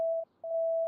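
A dispatch alert tone in a roleplay video game: a loud, steady single-pitched beep, briefly cut off and then resumed, heard alone.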